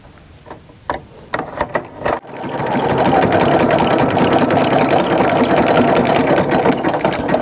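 A sewing machine starts after a few handling clicks and then runs steadily, stitching a thick jelly roll fabric strip rug with a loud, close, fast mechanical whir and rhythmic needle chatter.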